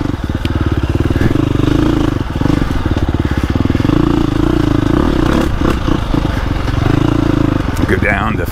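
A 2025 KTM 350XCF dirt bike chugs along a woods loop in second gear, its engine a loud, steady low thumping close by, with clatter and scrapes from the trail mixed in throughout.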